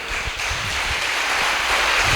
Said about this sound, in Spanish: Le podemos dar un fuerte aplauso a él.